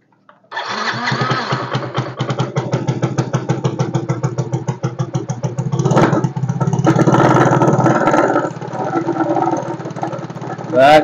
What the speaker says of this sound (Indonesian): Nah, ini tanpa aki pun motor bisa hidup.